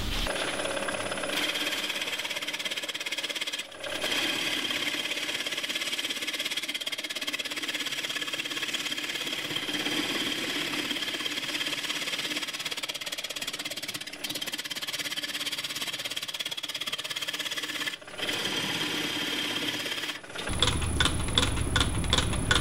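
Lathe running while turning a walnut and aluminum piece, a steady mechanical hum and grinding that starts and stops several times, with a rapid rattling burst near the end.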